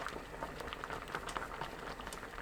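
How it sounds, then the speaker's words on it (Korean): Perilla leaf porridge broth simmers in an open pot, a faint, steady bubbling with soft irregular pops and gentle plops, quiet and close with no voices. "뚜껑 열어둔 상태로 2분 끓여주세요."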